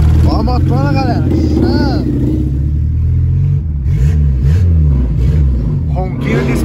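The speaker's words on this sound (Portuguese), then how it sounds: "Ronquinho de esportivo ele tem." A turbocharged Volkswagen Gol tuned to about 500 hp rumbles and revs while driving, heard from inside the car. Its engine note rises and falls in repeated sweeps, with people talking over it throughout.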